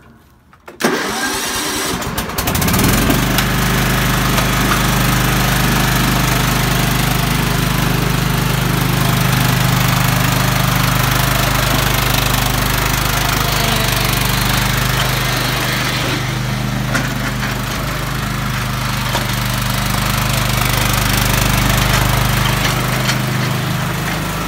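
A John Deere ride-on lawn tractor mower starts up with a brief cranking burst, then its engine settles into a loud, steady, close-up running drone that continues to the end.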